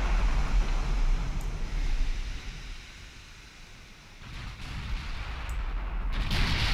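Battleship guns firing in Ultimate Admiral Dreadnoughts, heavy rumbling booms blending into a continuous roar of naval gunfire and distant blasts, loud and dense, dipping briefly before swelling again, no voices.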